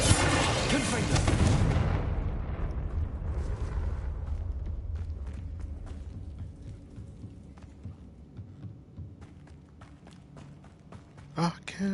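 Confringo fire-blast spell from Hogwarts Legacy, a loud booming explosion at the start that decays into a long crackling, rumbling tail with scattered debris clicks, and a voice speaking over it.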